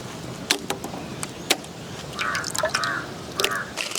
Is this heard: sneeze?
no